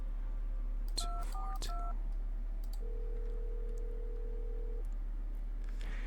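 A telephone keypad sends a quick run of distinct dialing beeps, then one longer steady tone follows. The sounds are close and clear over a faint low hum, and nobody speaks.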